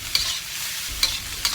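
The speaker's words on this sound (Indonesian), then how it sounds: "Jangan lupa untuk selalu diaduk terus ya, supaya tidak lengket." Pineapple fried rice with fried shallots is stirred in a hot pan, a steady sizzle broken by three crisp spatula scrapes, close up with no voices.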